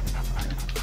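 Attack dog unit in the real-time strategy game Yuri's Revenge, giving a short panting, whimpering dog sound that lasts under a second, loud and steady against continuous game audio.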